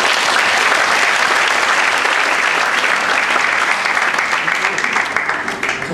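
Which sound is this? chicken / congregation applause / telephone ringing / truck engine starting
congregation applause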